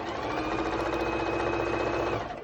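A sewing machine runs continuously, stitching fabric for scrunchies with an even, fast mechanical whir at close range.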